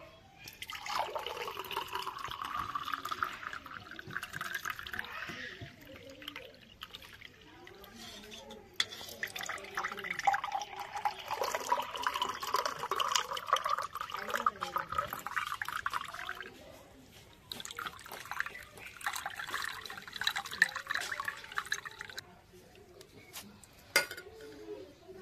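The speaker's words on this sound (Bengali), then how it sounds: "এবার একটা ছাঁকনির সাহায্যে ছেঁকে নেব।" Tamarind juice for a cold summer drink is strained through a sieve in a kitchen, faint liquid trickling and dripping with light clinks of utensils against a bowl, coming in bursts with pauses.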